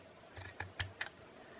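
Scissors snip a lace snippet from a roll, four or five quick, crisp cuts in close succession, faint and close up with no talking.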